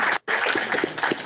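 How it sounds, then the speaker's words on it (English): A short burst of audience applause following a talk on conservation and One Health, dense crowd clapping with a momentary gap near the start, then continuing at close, fairly loud level. "we'll give you another round of applause"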